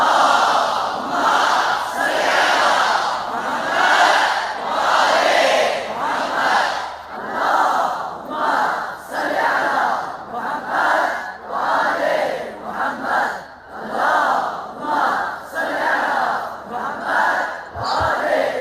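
A large crowd at a Shia religious gathering recites salawat loudly in unison, rising and falling in repeated rhythmic chanted waves throughout.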